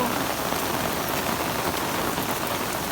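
Heavy rain in Hong Kong pours steadily, a dense constant hiss of drops hitting a surface, with no pauses.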